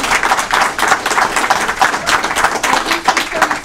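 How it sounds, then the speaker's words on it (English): Audience applause at the end of a presentation on the history of the Battleship New Jersey, a dense, steady wash of many hands clapping that carries on loudly throughout. "Have a round of applause here."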